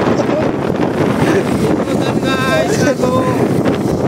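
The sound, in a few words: strong wind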